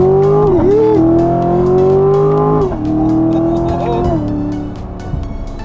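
Corvette C7 sports car driving in normal mode, a loud, close engine note held steady with several shifts in pitch as it accelerates, with road and tyre noise underneath.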